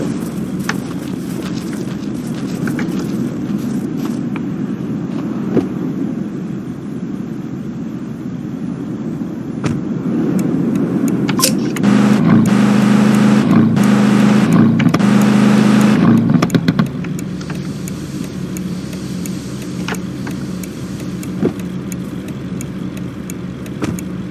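A car engine runs as the car is moved, a low, steady rumble that swells for a few seconds in the middle before settling back to a quieter idle.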